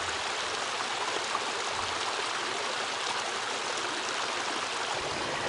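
A clear forest stream flowing steadily, a continuous broadband rush and gurgle of water over its bed, close and even throughout with no voices.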